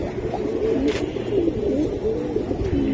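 Silver Giribaj racing pigeons coo in a steady rolling series of throaty, warbling calls close by, layered over one another against a constant low background with no one speaking.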